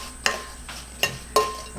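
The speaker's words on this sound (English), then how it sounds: "you're just going to mix that sugar" Sugar being stirred into tart Granny Smith apples in a skillet, heard as three sharp scraping strokes spaced under a second apart, with faint grainy rustle between them and no talking.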